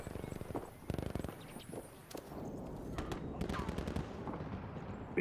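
Gunfire from the video game Battlefield V sounds in bursts of rapid shots and single cracks amid busy in-game noise, with a commentator talking over parts of it.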